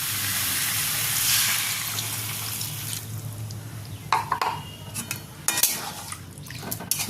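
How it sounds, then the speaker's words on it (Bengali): Water pours into a hot pan of egg and cauliflower curry with a steady hissing rush for about three seconds, followed by close clinks and knocks of a utensil against the pan. "এবার আমি জল দিয়ে দিচ্ছি।"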